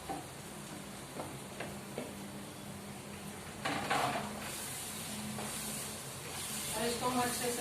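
Mashed eggplant tipped into a pan of peas, bringing a soft sizzle and stirring scrapes with a brief louder hiss midway, moderately quiet and fairly close.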